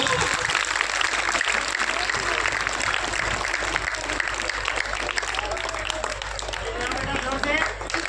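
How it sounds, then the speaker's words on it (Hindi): Audience at an Independence Day function clapping to welcome people onto the stage, a steady wash of applause with crowd noise and voices talking over it. "जब तक वो स्टेज पे आए उनके लिए जोरदार ताली से स्वागत कीजिए"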